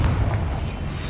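A Confringo spell detonates in Hogwarts Legacy on PC: a single loud, booming blast with a dense, rumbling low end that fills the whole short moment, with no voices.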